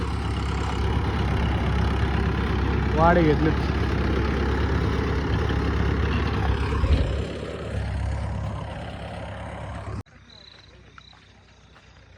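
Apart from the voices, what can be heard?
tractor engine running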